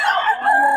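A Sweater-bloodline gamecock rooster crows nearby in a short, loud burst with a strained, harsh tone that cuts off abruptly.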